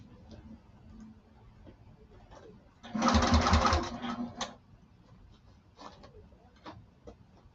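Sewing machine stitching a fabric lining around a curve on a duffel bag, in one short, close burst of rapid mechanical whirring, surrounded by quiet handling noises.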